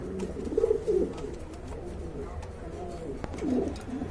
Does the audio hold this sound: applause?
no